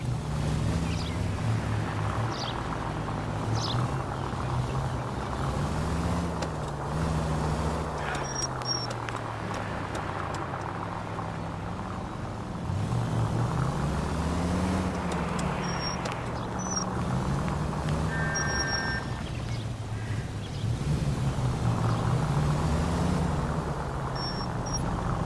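A car driving in the L.A. Noire video game, a steady engine drone with rising and falling revs and road rumble running throughout, with a few faint clicks over it.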